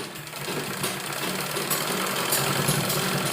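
A sewing machine runs double stitching over fabric loops on a kurti, a steady close mechanical whirr and rattle that continues without a break and without talk.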